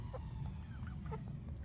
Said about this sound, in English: The rest of the flock are silky chickens.